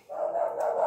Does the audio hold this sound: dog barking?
yes